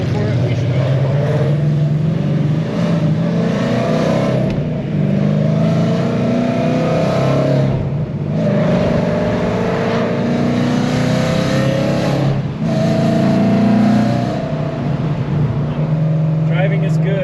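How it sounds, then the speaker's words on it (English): Hot rods roll out of Greensboro, Georgia on the Hot Rod Power Tour, with a continuous loud engine and road drone heard from inside a moving car, briefly dipping a few times, as someone talks over it. "Rolling on out of Greensboro, Georgia. Hot rods everywhere."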